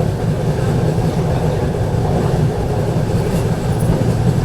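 The Telangana Express train rumbles along at speed, a loud, steady, dense roar of rolling wheels and carriage noise without pause, with no voices.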